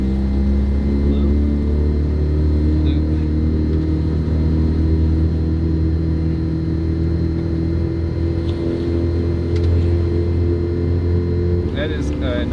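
A Mazda RX-7 FC rotary engine runs on its first drive after sitting for 15 years, a loud, steady, droning idle with even low harmonics that barely changes, close to the car, with no speech.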